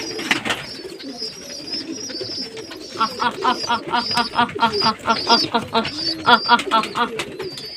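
Pigeons coo at feeding time in a home loft where chicks have grown large, many birds calling in overlapping rhythmic bursts close by, mixed with higher chirps and someone talking.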